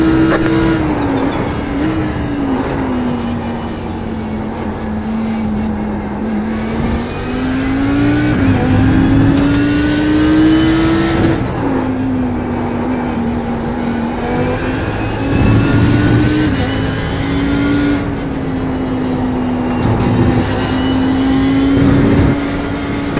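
Race car engines in an iRacing sim race drone continuously and loudly, with pitch rising and falling through gear changes and other cars passing close alongside.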